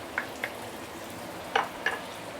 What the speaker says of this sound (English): use medium heat now to give it a few stir